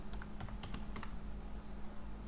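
Fingers typing a file name on a computer keyboard, a quick run of soft, close keystroke clicks with short gaps between bursts over a low background hum.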